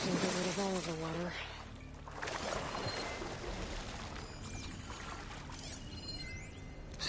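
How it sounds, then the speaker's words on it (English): Water draining from a flooded facility in the video game Horizon Forbidden West, a continuous pouring, sloshing rush over a low rumble, with a voice speaking briefly at the start. "I suppose I can get rid of all of the water."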